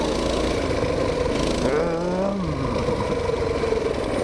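Mini bike with studded tires, its small engine running steadily and rising in pitch as it alternately brakes and accelerates, close by and fairly loud throughout.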